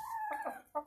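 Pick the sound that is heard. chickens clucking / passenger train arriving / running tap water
chickens clucking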